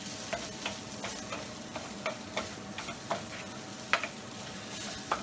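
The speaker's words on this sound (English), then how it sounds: "we're going to cook that at medium-low flame because we" Rice toasting over a medium-low flame in a paella pan for a shrimp and sausage paella, giving a soft steady sizzle broken by scattered crackles and stirring scrapes, close and moderately quiet, with no talking.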